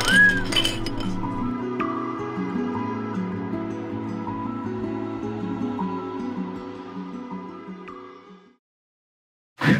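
Glasses clinking together in a toast, a bright ringing clink at the start with a long resonant glassy tone fading out, heard close and without talk.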